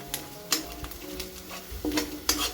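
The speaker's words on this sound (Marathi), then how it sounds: "आता आपल्याला हा कांदा पूर्ण लाल होईपर्यंत आपल्याला फ्राय करायचा" Onion and curry leaves fry in a pan as soybean curry gets started, a soft, close sizzle broken by a few light stirring scrapes and clicks, with no talking.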